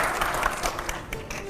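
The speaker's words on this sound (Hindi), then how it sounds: "अगले सवाल के लिए जोरदार तालियां हो" Audience applause at a speaking event about Asaduddin and Akbaruddin Owaisi, a dense, steady clatter of many hands lasting under two seconds, moderately loud with no voice over it.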